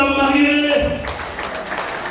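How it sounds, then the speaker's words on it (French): Wedding guests clap for the bride: a sustained burst of crowd applause rises after a brief tonal voice or music passage and continues steadily to the end. "On applaudit très fort pour la mariée."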